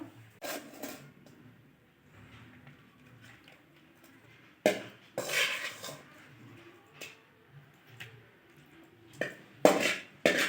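A pan of chicken liver fry comes off the stove and is plated, with sparse, quiet clinks and scrapes of utensil against cookware, three sharper metallic knocks standing out between near-silent gaps.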